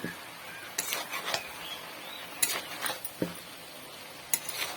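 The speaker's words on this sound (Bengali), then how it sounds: "এটিকে ভালোভাবে নেড়ে চেড়ে নিচ্ছি।" Pumpkin greens cooked with mustard being stirred in a pan, soft scraping and clinking of a spatula in scattered quiet strokes, close and faint with no talk.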